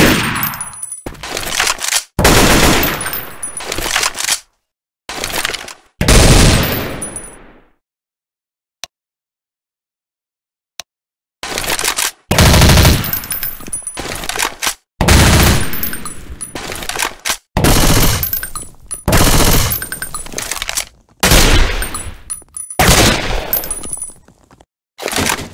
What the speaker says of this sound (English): I'm gonna grab this range rifle.